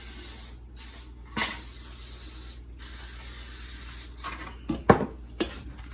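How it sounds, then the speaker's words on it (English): Several bursts of aerosol cooking spray hiss across pans, separated by short pauses, with a few metallic clinks of pans and utensils near the end. "I wanna make sure you spray your pans."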